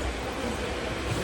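A passenger train pulls out on a Barasat to Patna journey, a dense, steady rumble of rolling carriages heard from close by inside, without speech.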